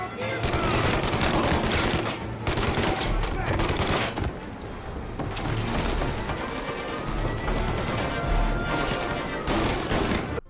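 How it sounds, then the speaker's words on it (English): Heavy gunfire as enemies are shot in Mafia Definitive Edition, with dense bursts of rapid shots and booming reports sustained throughout, loud and close, and someone talking over it. "when we shoot enemies, they still do that same death and being shot animations"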